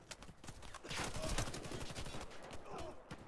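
Rapid gunfire from a Warface online shooter match, dense bursts of shots crackling continuously and fairly loud through the whole stretch, with game effects layered underneath.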